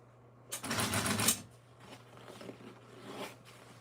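A sewing machine stitching upholstery fabric around a tight turn runs in a fast, close rattling burst of about a second, followed by softer, fainter stitching over a steady low hum.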